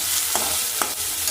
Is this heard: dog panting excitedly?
no